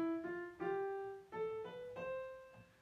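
A piano plugin plays a slow rising run of single notes on an Arabic-style scale with a lowered third, each note clear and sustained, about five notes in under three seconds, close and alone.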